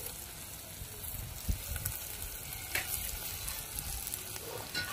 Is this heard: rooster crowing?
no